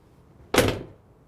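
The door of a used Mercedes-AMG G63 20th Anniversary Edition swings shut with a single solid, heavy thud, close and clear, then quiet.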